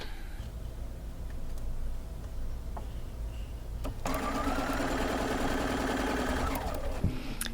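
A home sewing machine stitching through quilt block seams, running at a low steady hum at first and then speeding into a loud, even whirring drone for a few seconds before stopping with a small clunk.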